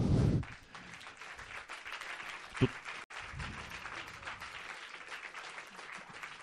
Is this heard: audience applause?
yes